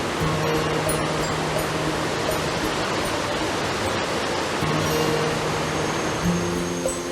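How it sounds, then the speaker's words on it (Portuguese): Waterfall on a rocky stream in dense Brazilian Atlantic forest within a national park, a steady broadband rush of falling water that stays constant and full throughout, with no voices. "Num trecho rochoso desse riacho, a água construiu uma belíssima queda d'água"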